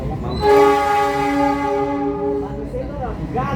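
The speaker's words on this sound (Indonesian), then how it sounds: "tadi ada kereta api" A railway train sounds its horn in one long, loud, steady blast that fades into the rumble of the passing cars, heard from nearby outdoors.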